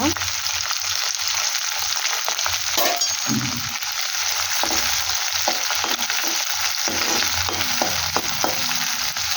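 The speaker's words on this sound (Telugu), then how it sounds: "రొయ్యలు ఫ్రై చేయాలి. రొయ్యలు ఫ్రై అయిన తర్వాత" Prawns fry in hot oil in a pan, a loud continuous sizzle broken by occasional clinks and scrapes of a spatula, close up with no talking.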